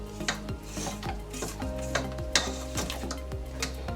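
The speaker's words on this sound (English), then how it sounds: "I'm going to take my spoon and I'm going to scrape down the sides so that everything can be incorporated evenly" A spoon scrapes down the sides of a bowl and stirs thick chocolate cupcake batter, making quick, close scraping and tapping strokes in an irregular rhythm, with a low steady hum underneath and no voices.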